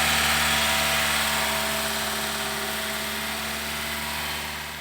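A 2016 Toyota Sienta engine idles steadily nearby during tuning with the PCV line open, a constant low hum and buzz whose level sags slightly toward the end, with no voices.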